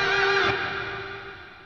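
A single sustained electric guitar note bends upward, then rings out and slowly decays in a long, washy reverb tail.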